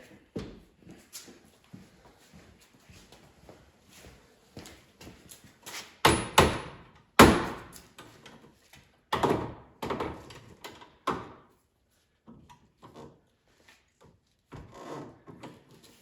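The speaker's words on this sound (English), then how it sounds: "Hammer's working better than your hand." Several sharp hammer blows strike a metal part of a Club Car golf cart at irregular intervals, mixed with scraping and handling noises, close by.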